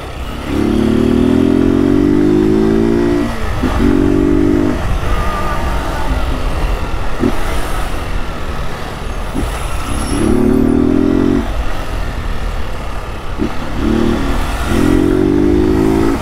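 A Honda Fan 160 motorcycle running without an air filter revs hard in short clutch-only bursts, several loud, close blips separated by brief drops to idle.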